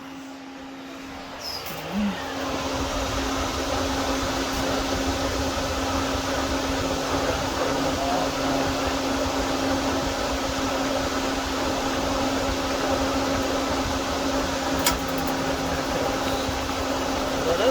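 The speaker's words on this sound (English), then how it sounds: "I'm turning the heat all the way up." An RV gas furnace runs with the heat turned all the way up, giving a steady, loud blower roar with a low constant hum that stays even throughout, close by and without speech.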